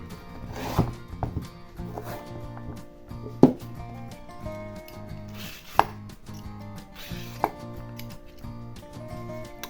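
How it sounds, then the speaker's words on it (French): A knife chops vegetables such as parsnip and carrots on a cutting board in a home kitchen, with irregular crisp thunks, some sharper and louder, over faint background music. "Après, je découpe mes autres légumes"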